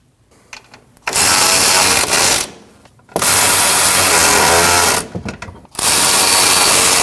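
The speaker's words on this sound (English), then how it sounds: "you want to tighten the top 3 nuts" Power tool driving the strut top nuts on a 2012-2021 Nissan NV2500 front strut and spring assembly, three loud, close bursts of whirring separated by short pauses.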